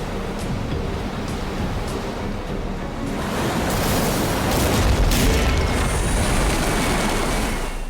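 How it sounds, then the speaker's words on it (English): A giant ocean wave crashes over a boat grounded on a reef. It starts as a loud, continuous rush of surf, then swells into a heavy roaring impact with deep rumble and hissing spray. "This giant wave hits the boat."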